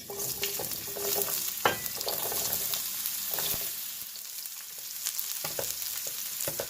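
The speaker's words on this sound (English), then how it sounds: "I'm going to fry these or saute these on a high heat till they're brown" Squash sizzling over high heat in a pan for vegan calabacitas, a steady broad hiss with a few sharp clicks and knocks of utensils against the pan, close and moderately loud, no voices.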